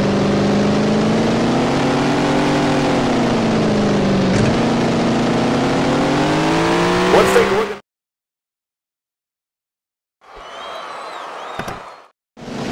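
Race car engines in the Tony Stewart's All-American Racing video game drone with a loud, steady harmonic tone that wavers slightly in pitch, cut off abruptly into silence, followed by a shorter burst of engine noise.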